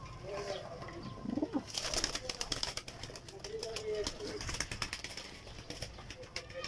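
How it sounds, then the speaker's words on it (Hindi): Soft cooing of Parwazi (flying) pigeons and rustling wing sounds mixed with low background voices and clatter, fairly quiet and close. "ओरिजिनल बटेरा कबूतर है"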